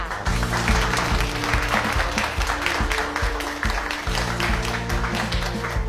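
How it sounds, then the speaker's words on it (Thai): Applause from a training class for a special guest, close and continuous for the whole stretch, with a steady low tonal hum running underneath. "ขอเสียงปรบมือให้กับเพื่อนร่วมคลาสน้อยวันนี้ค่ะ"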